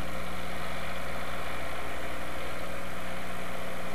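A small John Deere tractor idles steadily in heavy blizzard snow, a constant mid-low engine drone running alone without change throughout.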